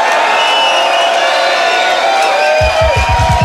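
A London club crowd at a dubstep night roars and whoops, loud and continuous and close up, with heavy bass thumps coming in near the end.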